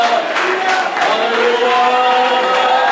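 Church congregation cheering and calling out in acclamation, a dense continuous crowd roar of many voices with sung or shouted tones, loud and sustained throughout.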